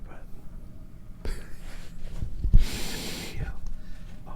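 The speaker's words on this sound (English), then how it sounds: "that's me smelling the hat." Someone sniffs a baseball cap up close, with soft breathing, a sharp snort-like inhale and a longer airy sniff, alone without speech.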